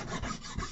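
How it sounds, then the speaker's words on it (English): A hand file rubs across a plastic model kit surface like a sanding block, a continuous close rasping scrape with slight pulses from the strokes. "basically using the file almost as like a sanding block"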